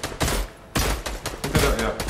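Rapid bursts of Fortnite gunfire during a heated firefight in an original-season match, loud and close, several volleys coming in quick succession with short gaps between them.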